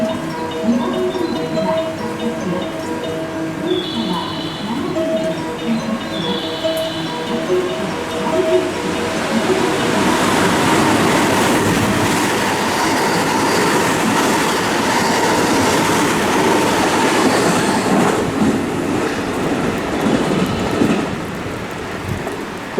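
A JR West Kyoto Line train passes through platform 3 at Suita Station, a loud sustained rush of wheels and rail noise building midway and holding close by, after a brief tone and station ambience at the start.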